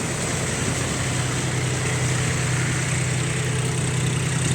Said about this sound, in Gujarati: અને આ છે આપણું ટ્રેક્ટર